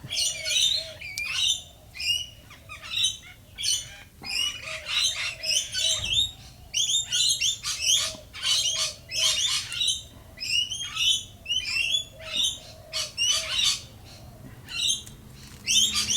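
Many birds squawk and chirp continuously in a noisy chorus from a fig tree, close and busy, with rapid overlapping calls throughout.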